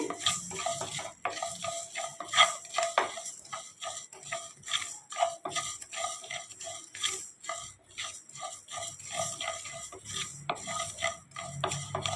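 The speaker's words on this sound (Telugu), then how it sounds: "కొంచెం లైట్గా దోరగా వేయించుకుందామండి" Soft crackling and scraping as fenugreek seeds are lightly roasted in a pan, with a spoon stirring and tapping against metal in quick irregular clicks, fairly quiet and without talk.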